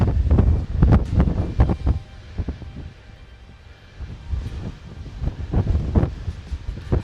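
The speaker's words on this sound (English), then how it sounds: "Oh, the wind is up here. The wind is blowing up here." Gusty wind buffets the microphone on a high lookout, a loud low rumbling roar that surges in bursts, dips briefly in the middle, then builds again, with no talking.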